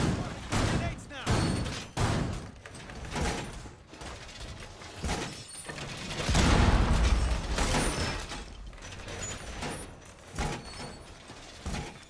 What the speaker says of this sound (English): Grenades now.